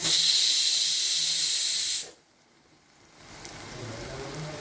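Loud bright hiss of hot chili powder sizzling in very hot oil with the stove switched off, for about two seconds, then it cuts off abruptly to a quiet background with a softer, lingering fizz.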